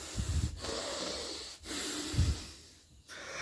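A man imitates hard breathing with heavy, rhythmic snorting inhales and exhales, close to the microphone, separated by short pauses.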